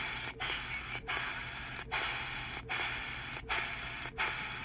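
A RADTEL RT-920 handheld multiband radio receiving a station with weak reception, heard as a dense hiss of static broken by regular short dropouts and faint clicks, steady and continuous with no clear voice.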